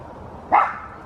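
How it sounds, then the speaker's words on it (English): A single sharp dog bark, fairly loud and close, over a faint quiet background. "You hear that bark?"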